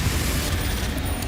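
A Confringo blasting spell goes off in Hogwarts Legacy, giving a dense, loud, rumbling burst of explosive noise that fills the short moment without any talking.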